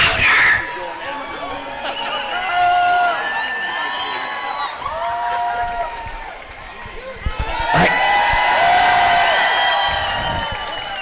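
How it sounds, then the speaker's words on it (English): A crowd at a swim meet cheers and applauds, loud and continuous with shrill whistles and shouts rising and falling, then a sharp surge of noise near the end; a voice talks over it. "Y'all, cheer louder."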